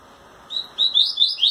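A rusty-collared seedeater (coleiro pardo) sings near and clear, a run of about five bright, rising chirped phrases in quick succession, delivered to a female while fluttering its wings.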